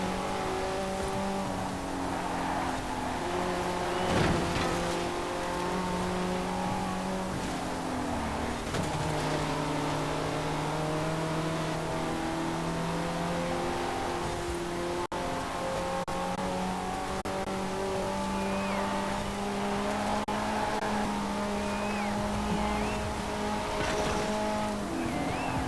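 Race car engines roar continuously in Forza Horizon 4, Alfa Romeo and Maserati among them, with rising and falling revs as gears shift, close and loud, with no talking.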